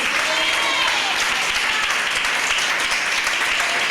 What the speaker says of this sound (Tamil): கைத்தட்டு கைத்தட்டு.